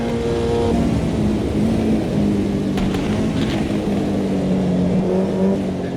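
A race car engine roars steadily and loudly in a sim racing game, holding a sustained high drone with gear-like pitch shifts, and faint mechanical ticks come through partway.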